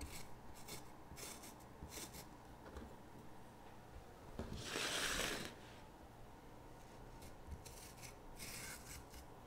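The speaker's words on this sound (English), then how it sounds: "Just scrape that inner part of the banana on there" Banana peel's soft inner part is scraped in quiet, close rubbing strokes, with one longer louder scrape midway and light ticks between.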